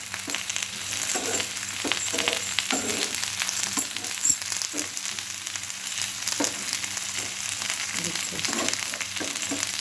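Brinjal pieces frying with garlic in hot oil, a steady close sizzle and crackle running throughout with occasional stirring scrapes.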